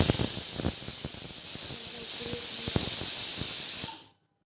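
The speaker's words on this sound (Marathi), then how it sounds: "इथे आपल्या मसाल्याला उकळी आलेली आहे." Continuous hiss of a fish curry masala at a boil, with faint bubbling pops and utensil taps underneath, ending suddenly.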